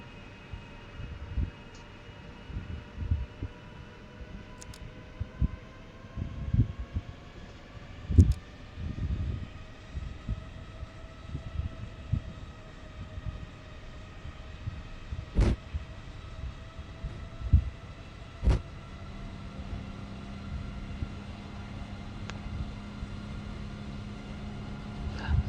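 Boeing 777 engines in a flight simulator game spool up as the throttle advances, a steady rising whine and drone with faint clicks and bumps over the top.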